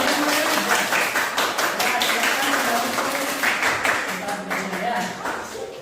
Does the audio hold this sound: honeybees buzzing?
no